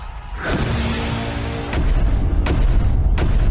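Ceremonial cannons in an animated Kung Fu Panda film fire in a series of heavy booms, a deep blast followed by several sharp thuds spaced about a second apart, loud and close over a rumbling backdrop.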